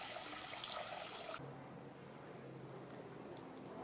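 Water poured into village-style rasam in a pan, a broadband rushing pour for about the first second and a half, then cutting off to a quiet low simmer-like background.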